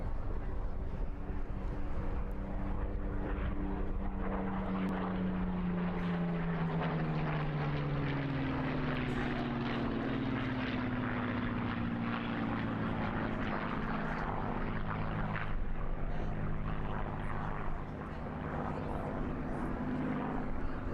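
Spitfire propeller aircraft flying at an air display, its steady engine drone rising and falling in pitch as it passes, loud and continuous throughout with no talk.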